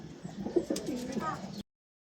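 Racing pigeons coo softly at a derby loft during a race arrival, a few low burbling calls close by with a voice talking over them.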